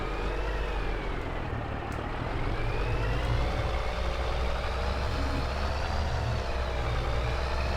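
A truck with a shortened chassis drives through the Tuscan hills in winter in Farm Sim 22, its engine giving a steady, continuous rumble with a faint rising and falling whine.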